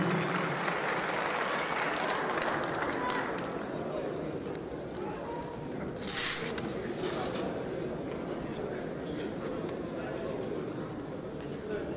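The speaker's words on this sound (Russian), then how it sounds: "давайте громче хлопать, потому что тут уже фанатские кричалки даже появились" A boxing audience at a 2018 tournament bout in Chita claps steadily and loudly for the whole stretch, with crowd chatter and a brief burst of cheering partway through.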